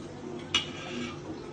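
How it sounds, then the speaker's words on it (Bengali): A kadai wok is set down on a kitchen stove with a single short metallic clink in an otherwise quiet room. "এখানে কড়াই বসাই দিছি"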